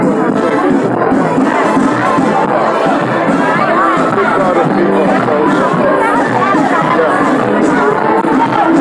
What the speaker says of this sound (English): We see everybody, a big crowd of people right here.